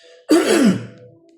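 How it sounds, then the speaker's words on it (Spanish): A single throaty cough or throat-clearing burst, close and loud, fading out over about a second. "Perdonen si toso un poco"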